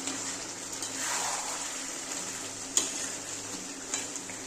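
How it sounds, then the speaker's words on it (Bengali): Fried potatoes go into a chicken kosha and are stirred in, with a quiet background sizzle, soft stirring, and a couple of sharp clinks of a utensil on the pan. There is no talking. "এখন আমি আলুগুলো দিয়ে দেবো।"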